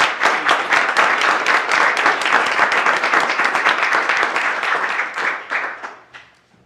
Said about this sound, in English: Please join me in a round of applause of appreciation for his contribution.